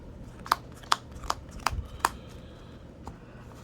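A deck of Yu-Gi-Oh! cards being cut and shuffled, giving a series of five or six crisp, evenly spaced card snaps at close range, then a quieter one near the end, without speech.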